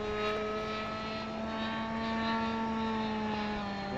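A large model Hawkeye aircraft coming in to land, its engine droning steadily with a strong sustained propeller hum, fairly close and continuous throughout without any voices.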